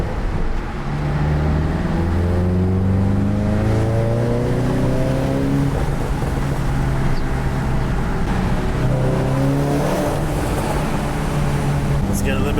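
An E85-fuelled Volkswagen GTI pulls hard in second gear, its engine note climbing steadily in pitch as revs rise, loud and close from inside the cabin with a brief drop and renewed climb, under occasional voices.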